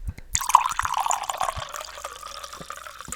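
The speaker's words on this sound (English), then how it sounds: "Time for the pour." A drink is poured into a glass, giving a steady liquid trickle with a few drips, close and fairly quiet.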